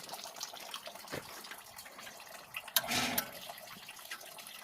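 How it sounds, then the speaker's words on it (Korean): Water gushing from a tap at a farm hut, drawn from a groundwater pump at night, a brief burst of rushing flow in the middle over a quiet, faint background. "물은 나온다"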